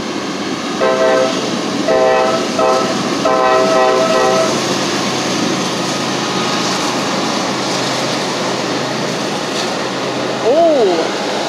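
A CSX freight train hauled by an SD40E locomotive rumbles past close by, sounding its horn in several repeated blasts early on, then a steady loud roll of wagons with a brief squeal near the end.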